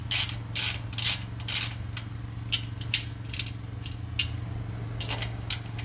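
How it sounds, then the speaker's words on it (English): Wrench or ratchet clicks in short bursts while loosening the rear wheel adjustment bolts on a beach surrey, close and fairly loud over a steady low hum, with pauses between strokes. "I'm going to loosen up these adjustment bolts for the rear wheel."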